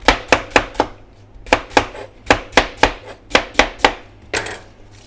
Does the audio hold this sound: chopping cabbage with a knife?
yes